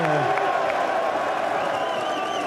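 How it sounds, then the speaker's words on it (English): Crowd in front of the Ohio State horseshoe cheering and applauding, a dense wash of clapping and shouts at moderate distance, with a voice talking over it. "Pop from the crowd in front of the horseshoe there"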